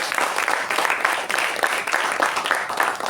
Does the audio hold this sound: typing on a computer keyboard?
no